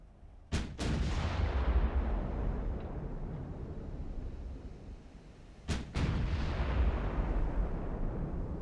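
Heavy naval guns firing in the warship battle game Ultimate Admiral: Dreadnoughts, with two loud booming salvos, each a sharp double crack followed by a long rumbling roar that slowly fades.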